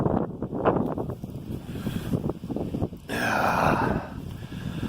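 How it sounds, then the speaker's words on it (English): Heavy gusting wind buffets the microphone with rumbling, roaring blasts that swell and ease, rising into a louder, hissing gust toward the end. "Man, is it getting almost unbearably windy."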